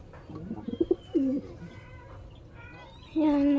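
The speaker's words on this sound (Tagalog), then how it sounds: "Yan mga kalapatids, may namisa na." Pigeons in a loft where young have hatched give a few soft, close cooing calls, brief and low, with a pause and then a louder sustained coo at the end.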